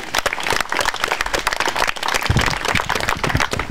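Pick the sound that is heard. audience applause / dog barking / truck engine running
audience applause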